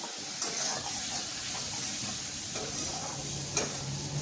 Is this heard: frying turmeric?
yes